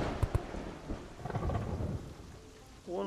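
Thunder rumbles over steady heavy rain in a storm outside. Sharp cracks come early, then a long roll of thunder, with the downpour continuing throughout.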